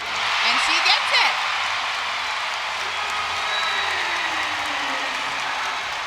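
Crowd applauding and cheering at a college gymnastics meet between Oklahoma and Georgia after a clean bar routine, a broad wash of clapping that peaks early and carries on under a commentator's voice.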